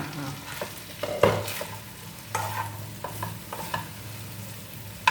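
Stuffed brinjal curry fries in a pan with a steady sizzle broken by repeated stirring scrapes and clacks from a utensil, loud and close.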